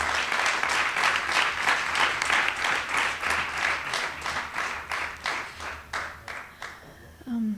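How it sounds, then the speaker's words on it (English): A room full of people at a retreat session gives a sustained round of applause, dense clapping that holds steady and then thins into scattered claps before fading out. "another big round of applause"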